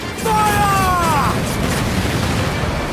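Ship cannons booming in a naval battle in Assassin's Creed Black Flag, a loud sustained roar of gunfire and rumble with a brief shouted voice near the start.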